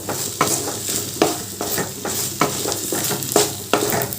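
A spatula stirs a chhana filling with chopped green chilli and sugar in a hot pan, rhythmic scraping strokes about twice a second over a steady sizzle, close and fairly loud with no voices.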